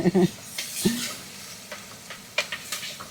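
Steady sizzling of onions frying in oil in a pan, with clinks and stirring scrapes, and a brief voice sound at the start.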